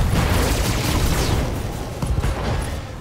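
Dense, continuous volleys of mech weapons fire and ammunition explosions from the BattleTech video game, with a Thunderbolt mech firing all its weapons in a precision strike. The barrage is loud and sustained throughout, with no talking.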